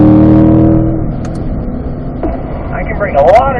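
A C8 Corvette on a track at an owners' driving school: a loud engine drone drops off after a gearshift and then builds again, rising in pitch as it pulls through fifth gear, close and steady with no gaps.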